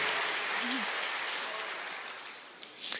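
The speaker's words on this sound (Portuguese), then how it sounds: "Dê uma salva de palmas, glorifique a Deus." A church congregation applauds at a service, a steady, close wash of clapping that slowly fades over a few seconds, with a faint voice briefly heard under it.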